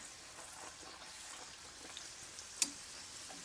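Chebureki, thin stuffed pastries, fry in a pan with oil after being flipped, giving a steady low sizzle with faint crackles and one sharp tick partway through.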